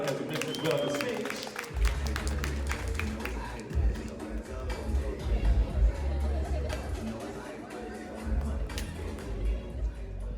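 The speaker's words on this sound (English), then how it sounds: "a round of applause for Mr. Marek as he makes his way on the stage." An audience at a music listening party applauds as a performer walks onto the stage, with scattered claps at first, then sustained clapping under crowd chatter and a voice speaking over the room.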